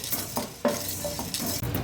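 Spice mixture frying in a pan for Mangalorean spicy podi kadabu, with soft sizzling under repeated stirring scrapes and utensil clinks against the pan at close range.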